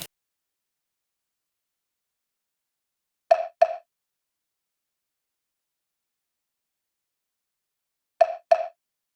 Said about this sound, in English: I added yet another woodblock sound.